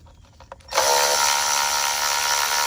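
A power tool with a 10 millimeter socket spins out intake bolts on a 2006 Chrysler Town & Country engine: a few faint clicks, then a loud, steady high-pitched whir running continuously close by.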